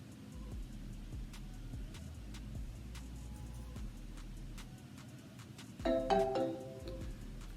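A phone rings with an incoming call, a short bright electronic chime near the end over a low, steady background hum.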